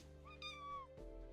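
A single cat meow from Minecraft Bedrock Edition, a clean, rising-then-falling electronic mew that cuts off sharply into low hum, with no talk over it.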